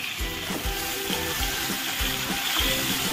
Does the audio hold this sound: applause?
no